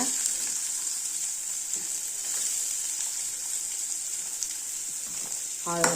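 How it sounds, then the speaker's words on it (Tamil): Mustard seeds, lentils and onion frying in hot oil in a pan, a loud, close, continuous sizzle with occasional stirring scrapes and a few sharp pops near the end, no talking over it. "கடுகு வந்து வெடிக்க ஆரம்பிச்சிருச்சு"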